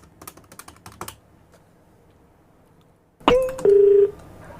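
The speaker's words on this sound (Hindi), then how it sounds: "फोन मिलाओ जी" A phone number is keyed in with a rapid series of button taps, followed by a brief pause, then a sharp onset and a steady dial tone that holds for nearly a second.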